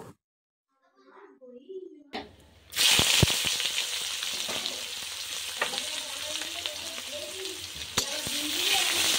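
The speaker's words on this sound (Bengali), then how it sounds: "ফোড়ন উঠে গেছে, আমি এবারে পেঁয়াজ কুচি দিয়ে দেবো।" Chopped onion dropped into hot oil already crackling with dry red chilli, bay leaf and whole spices for a duck curry, bursting into a loud, steady sizzle with stirring scrapes after a near-silent start.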